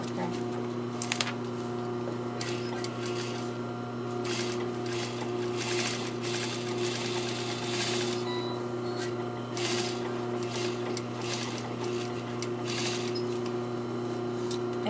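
A sewing machine edge stitches a fly zipper from the top down, running in a steady, close, continuous whir with mechanical ticking and a few brief pauses and knocks.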